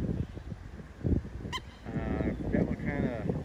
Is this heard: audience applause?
no